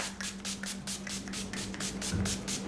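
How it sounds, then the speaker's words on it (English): A hydration setting spray mists in a fast series of about a dozen short hissing pumps, close and steady, with no talking. "I'm gonna use this kind of as a setting spray, but really it's just like a hydration spray."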